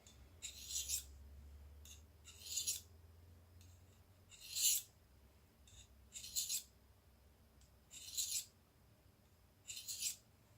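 Buck knife drawn through a knife sharpener in six short, crisp scraping strokes spaced about every one and a half seconds, close and fairly quiet against a hushed room, with no talking.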